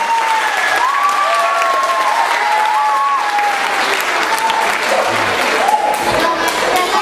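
An audience at a horse-day event applauds boys after a kempo martial arts demonstration, a loud, dense, sustained clapping throughout with someone talking over it.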